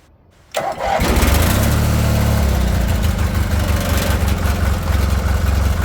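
Engine of a Bolens 1668 Hydro garden tractor cranks briefly, catches and then settles into a loud, steady running idle close by, with no talking over it.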